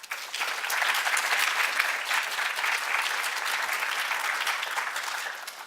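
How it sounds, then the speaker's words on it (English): An audience at a Skidmore College lecture gives a round of applause, dense steady clapping that swells quickly, holds for several seconds, then tapers off. "I would love to give a round of applause"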